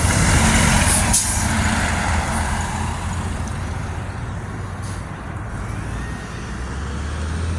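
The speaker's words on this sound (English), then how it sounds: "It looks like the bus." Loud, close rumble of a city bus pulling in at a stop, with a sharp air-brake hiss near the start and a steady engine drone as it idles, traffic noise around it.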